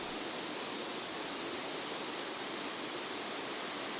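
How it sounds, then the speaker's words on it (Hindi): The Teesta river near Darjeeling rushes past in a steady, dense broadband roar of flowing water, constant and close throughout with no voices. "तीस्ता का पानी"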